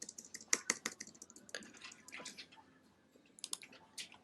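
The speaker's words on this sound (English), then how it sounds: "I can change the text by clicking on the area and start typing immediately" Quick, light clicks of fingers typing on a computer keyboard, coming in short irregular bursts with brief pauses, close and quiet.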